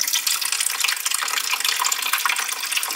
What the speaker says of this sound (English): We're gonna fill this thing up with water.